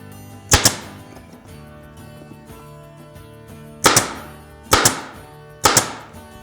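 Staple gun firing into a suede motorcycle seat cover on a BMW R1300 GS Adventure, four sharp loud snaps, one alone and then three spaced close together, over a quiet background.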